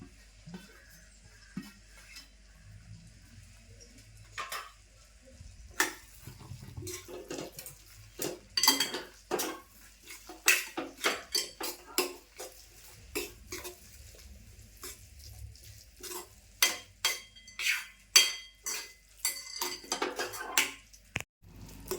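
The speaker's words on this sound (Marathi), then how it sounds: "आता मी कोथिंबीर टाकते" Spicy tomato chutney gets stirred in a pan as coriander goes in, with a run of irregular scraping and clattering spoon strokes over a faint sizzle, the strokes growing denser and louder as it goes.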